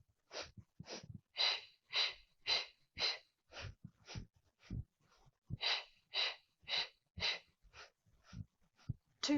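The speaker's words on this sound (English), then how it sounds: "We inhale and exhale." Rhythmic, sharp breaths in and out during an at-home Pilates workout, about fifteen quick close-up puffs in an even pattern with a short pause midway.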